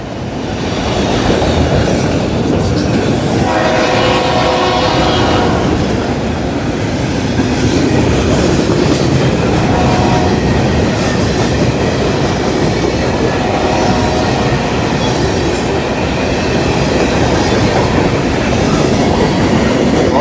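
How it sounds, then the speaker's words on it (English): Northbound freight train rolling through a rail cut, a loud continuous rumble of wheels and cars with rhythmic clickety-clack and occasional wheel squeal, close by and steady for the whole stretch. "we got a northbound coming on the rat hole right now"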